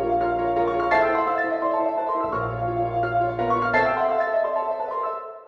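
An orchestra builds a Prokofiev-style swell, rising in a crescendo and falling back in a decrescendo, with sustained high strings over a low bass note that drops out and returns, full and continuous throughout.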